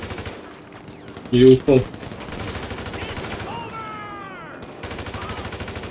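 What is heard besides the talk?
gunfire in a video game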